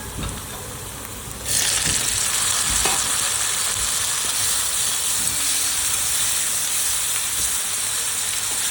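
Dal khichdi with tomato and salt hisses and sizzles in a hot pan, and the frying noise jumps in loudness after a moment, then holds steady with occasional scrapes of stirring.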